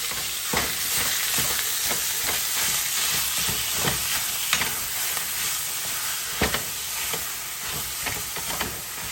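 Lean ground beef browning in a little oil, a dense continuous sizzle with occasional scraping clicks of a utensil, close and steady with no voices.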